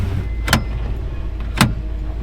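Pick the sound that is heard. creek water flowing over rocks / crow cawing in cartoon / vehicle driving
vehicle driving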